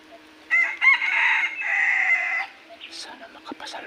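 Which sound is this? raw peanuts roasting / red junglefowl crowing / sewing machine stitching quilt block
red junglefowl crowing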